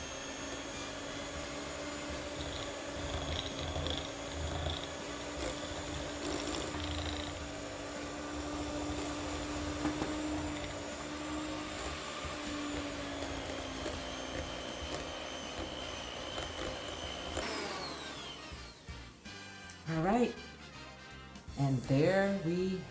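An electric mixer whirs steadily through keto chocolate chip cookie batter, a continuous motor drone that runs for most of the stretch before cutting off, followed by brief kitchen clatter and a voice near the end.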